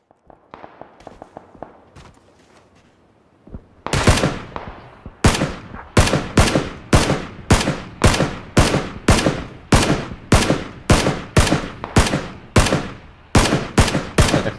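Rapid gunfire in PlayerUnknown's Battlegrounds on the Miramar map, beginning as faint distant pops, then loud close single shots fired in a quick, fairly even rhythm with short pauses, no talk.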